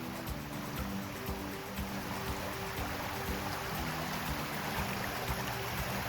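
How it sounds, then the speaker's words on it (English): The Cross River flows over rocks at Ward Pound Ridge Reservation, a quiet, steady burble and trickle of moving water heard close by and without voices. "The water feels nice and cool, and I love sitting here and listening to it flowing over those rocks."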